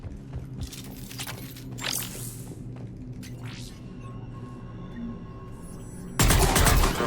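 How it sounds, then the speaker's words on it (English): Rapid bursts of cannon fire in the sci-fi shooter Mass Effect 3, dense overlapping blasts and crackling impacts under a steady battle rumble, swelling into a loud, sustained roar near the end. "The cannon fire is clearing the way."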